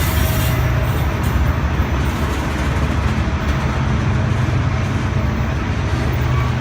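Steam locomotive pulling into a station at Charters Towers, Queensland, a loud, steady broadband rumble and hiss of the approaching train with low mechanical chugging throughout.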